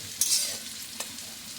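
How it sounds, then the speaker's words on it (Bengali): Cashews fry in a pan for a vegetable dal, making a soft, close sizzle with a brief scrape of stirring near the start and no talking. "কাজুগুলো ফ্রাই হয়ে যাচ্ছে"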